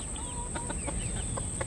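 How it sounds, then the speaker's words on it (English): Frizzle rooster and hens clucking softly in a short run of low, repeated clucks over a steady background hiss. "He's a good rooster."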